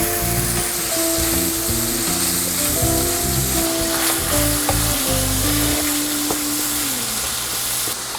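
Browning meat for a baked spaghetti casserole sizzles and fries loudly in a pan, a dense continuous crackle with occasional scrapes of stirring and no talk.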